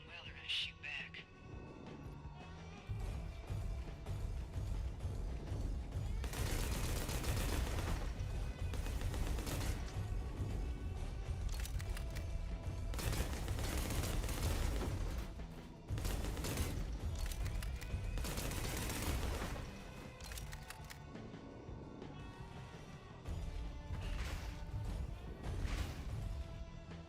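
Gunfire in a fight in the video game Bounty Star: long stretches of loud, dense bursts with crashing impacts, a brief lull midway, then more volleys over steady game noise, with a voice faintly present.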